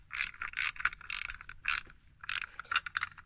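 A small screw driven into metal on a KITT scale model, bursts of close ratcheting clicks from the screwdriver repeating in short rhythmic strokes with brief pauses between turns.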